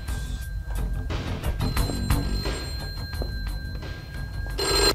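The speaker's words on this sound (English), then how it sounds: "Oh, the phone." A telephone bell rings in short repeated bursts indoors, clear over a low background rumble, with other faint noises between rings.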